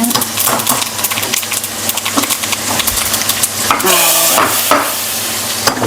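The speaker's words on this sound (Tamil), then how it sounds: "இப்போ வந்து வடகம் போட்டு தாளித்து குழம்புல ஊற்றிடுறேன்." Vadagam sputters and crackles as it fries in hot oil for a tempering, a dense, close sizzle with scattered sharp pops and a brief burst of louder spattering.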